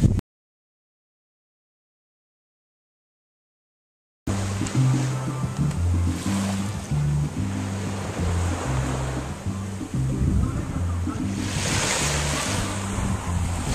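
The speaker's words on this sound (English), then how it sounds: "This is what a weekday looks like at the beach in Puerto Rico." Ocean surf rolls in at a beach in Puerto Rico, a steady wash of waves with wind buffeting the microphone and a low rumble underneath, after a brief silent gap at the start.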